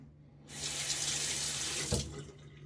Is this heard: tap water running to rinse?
yes